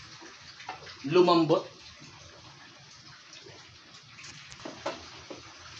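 Water is poured into a pot of softening pansit bato toppings, a brief loud splash and gush lasting about half a second, followed by quieter kitchen sounds under a speaking voice.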